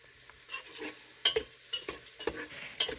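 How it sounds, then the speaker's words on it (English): Tender dandelion flowers fry in a pan, a soft sizzle broken by close scraping stirs and clinks of a utensil, no voices. "give them a fry until they're nice and brown"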